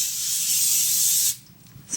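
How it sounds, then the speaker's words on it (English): Cooking spray hissing onto a baking pan in a steady, loud close-up burst that cuts off sharply, followed by faint handling noise. "Spray our pan, get that prepared."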